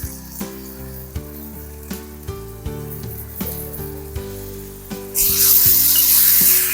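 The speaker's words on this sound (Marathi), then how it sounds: "आता याच्यामध्ये घालायची आहे आपल्याला टोमॅटोची प्युरी" Tomato puree hits fried onions in a hot pan for a soybean dish, setting off a sudden loud, steady sizzle near the end after a stretch of gentle melodic background music.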